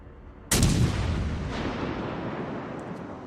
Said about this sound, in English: Let's test the power of this battle station's weapons on this Richelieu's superstructure